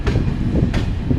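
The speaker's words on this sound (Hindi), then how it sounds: "देखो ट्रेन मुड़ भी रही है बढ़िया से" A train rounds a curve at a railway station under redevelopment, giving a close, loud rumble of wheels and rolling stock with a couple of brief squealing flashes from the rails.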